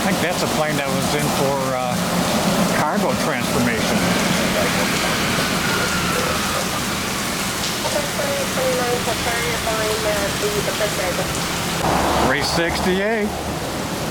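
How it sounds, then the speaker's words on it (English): Heavy storm rain pours steadily at an airport, a dense, continuous hiss on surfaces, while a voice speaks briefly and radio-like chatter comes and goes. "I mean, it's pouring now."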